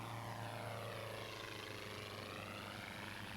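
A propeller airplane heard at a steady distance, a continuous droning engine hum with a low rumble that holds level throughout, with no voices.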